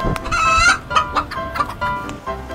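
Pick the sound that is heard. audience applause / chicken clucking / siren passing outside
chicken clucking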